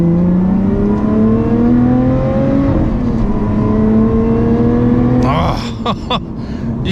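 A Lotus Evora 400 with a six-speed manual accelerates hard, its engine note climbing steadily through the revs with a gear change midway, loud and close from inside the cabin, before easing off with a couple of sharp clicks.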